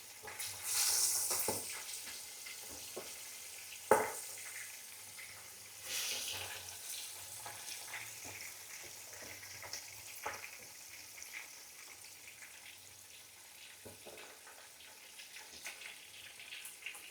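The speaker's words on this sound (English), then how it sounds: "Now we're going to lightly fry the prawns." Prawns sizzle in refined oil in a pan for a Bengali prawn malai curry, a steady soft frying hiss with occasional clinks and stirring clatter, nearby and moderately quiet.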